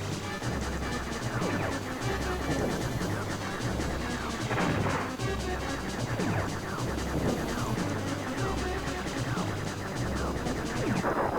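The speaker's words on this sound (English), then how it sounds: "Really great explosions in this game." Retro Star Fox space-shooter explosions boom in dense, continuous bursts over a driving game soundtrack, loud and busy throughout with repeated crashing blasts and no talking.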